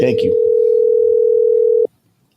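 A steady telephone dial tone sounds while a phone call is being placed, one loud continuous pure hum lasting nearly two seconds before cutting off abruptly, with a brief voice at the very start.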